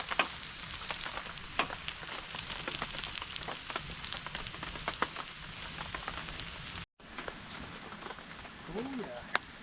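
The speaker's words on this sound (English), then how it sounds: "Just getting a pot roast seared off before it goes in the pot." Pot roast searing in a pot at a Vancouver Island campsite, a steady crackling sizzle with dense spattering pops that runs throughout, briefly cutting out near the end before resuming.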